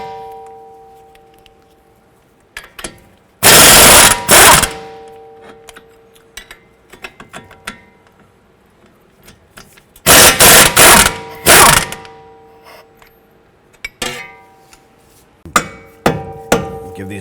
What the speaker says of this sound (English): Give these bolts a little bonk and work those bolts out there.